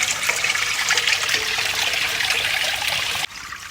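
Water pouring steadily into a washing machine tub at home, a loud, even splashing rush that carries on for about three seconds before cutting off abruptly, leaving a duller, quieter flow.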